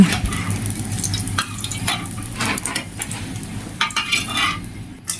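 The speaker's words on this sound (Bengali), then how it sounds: "এখন কড়াইতে আবার একই তেলে আমরা আলুগুলো ভেজে নিচ্ছি।" Potatoes fry in hot oil in a wok (kadai) during biryani preparation, giving a loud, steady sizzle close up, with occasional stirring scrapes and light utensil clinks over the top.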